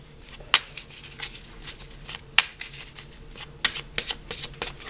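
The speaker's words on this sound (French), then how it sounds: "Je mélange et puis on va aller tirer 9 cartes" Tarot cards are shuffled by hand close up, with a quick series of crisp riffling flicks and soft slaps in an irregular rhythm, no talking over them.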